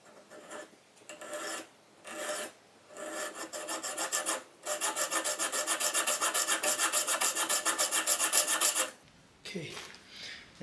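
A regular hacksaw cutting through a motorcycle fork part on a 1977 BMW R75/7: a few tentative strokes, then a long steady run of quick, even back-and-forth rasping strokes, close and loud, stopping near the end.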